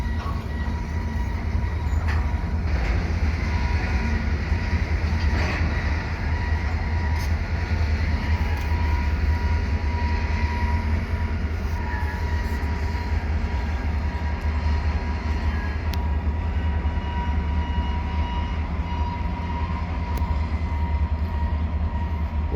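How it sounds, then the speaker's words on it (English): A CPKC SD40-2 diesel locomotive shoves an oil train, producing a steady, loud low rumble with faint wheel clatter and occasional squeals throughout. "Here it is, sd40-2."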